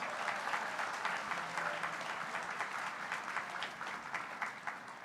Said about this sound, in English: Can we give them a big round of applause as well?